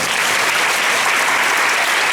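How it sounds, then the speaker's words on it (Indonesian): An audience at a choir event in Indonesia claps continuously, a dense, steady applause that fills the space without pause. "Tepuk tangan buat Romo Marto"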